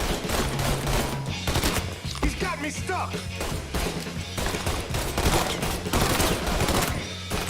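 Bursts of rapid gunfire and scattered shots in the video game Mafia 3 Definitive Edition, loud and continuous across the scene, with a voice speaking in between the volleys.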